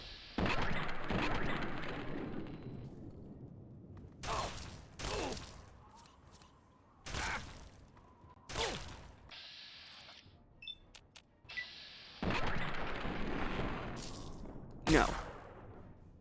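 Energy weapons firing in Fallout 3, several separate sharp blasts and crashing impacts in irregular bursts with quieter gaps and some electronic whine between them, loud and close.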